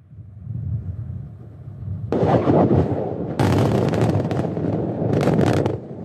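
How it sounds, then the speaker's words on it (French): Underground blasting in a diamond mine in Yakutia produces a deep, sustained rumbling roar in several heavy surges, loud and close, with no voices. "Il faut bien les faire, ces explosions."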